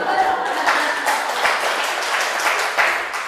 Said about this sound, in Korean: 그러니까 박수 한번 더 쳐주십시오